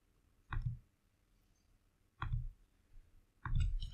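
Three distinct mouse clicks on a computer, spaced about one to two seconds apart, each a short close tap over a quiet room with no voices.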